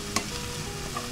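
Carrots and beans sauté in a pan for chicken noodles, a low steady sizzle broken by one sharp stirring scrape early on and a fainter scrape near the end.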